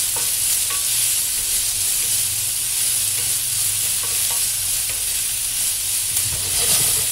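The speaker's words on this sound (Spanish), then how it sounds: "ahora le añadiremos la cebolla picadita. Y lo movemos un poquito más" Chopped onion goes into a pan of chickpeas and is stirred, giving a loud, constant sizzle with scraping movement and a low hum beneath, no talking.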